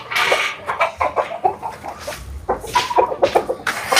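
Chickens cluck and call repeatedly while pecking at scattered feed on a farm, close and fairly loud, in a busy run of short overlapping bursts.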